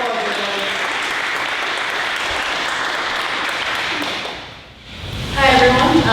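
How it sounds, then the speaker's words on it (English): Audience applause greets a speaker invited to the stage at a tech meetup: dense, steady clapping from a crowd that dips briefly near the end and then rises again. "Big round of applause, everybody."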